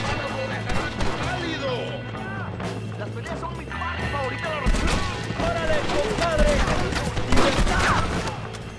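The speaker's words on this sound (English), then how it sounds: "Oh, this is a good gun." Gunfire in Red Dead Redemption: rapid sharp shots and crashes in a busy game mix, with a voice talking over the action.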